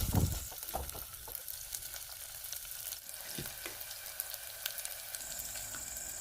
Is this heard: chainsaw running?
no